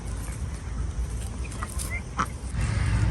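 Ducks and geese call out in short honks and quacks against steady outdoor background noise, with faint voices nearby.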